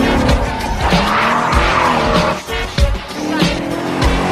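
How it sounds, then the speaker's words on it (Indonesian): During a car chase in the action film Transporter, a car brakes suddenly and its tires squeal and skid loudly over a rumbling engine, with screeching bursts repeating throughout. "Di tengah perjalanan, Frank ngerem mendadak mobilnya."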